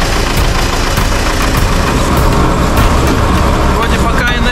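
A car bogged in deep field snow in Belarus revs hard as its wheels slip, a loud, steady engine roar with churning spin that barely changes over several seconds, close to the listener.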